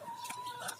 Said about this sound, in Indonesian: saya mau memperlihatkan ayam-ayam petelur yang calon umbaran